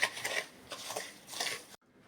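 Light metallic clinks and scraping of a whisk against a bowl of cake batter with raisins and cheese, in quick bursts, then a sudden stop.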